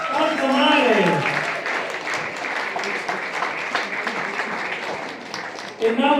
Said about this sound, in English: How about a great round of applause for Nando Altamare?